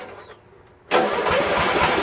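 A Briggs flathead engine on an MTD Cub Cadet 13.5 lawn tractor is quiet at first, then suddenly roars up to a loud, steady, rough running drone that continues to the end.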